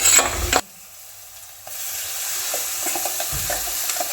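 Ground coconut paste tips into a hot pan of kurukku kaalan with a loud burst of sizzle, then a quieter simmer follows while a spoon stirs and scrapes in irregular strokes.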